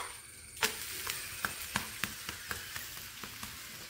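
Banana dosa batter sizzling in oil on a hot pan just after flipping, a steady close hiss broken by a run of sharp crackles and pops spaced roughly every half second, with no talk.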